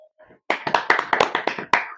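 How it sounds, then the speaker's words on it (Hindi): A classroom of students claps for a girl, a short burst of a dozen or so crisp, close hand claps in an uneven rhythm that follows a brief faint tone. "तालियां लड़की के लिए, तालियां।"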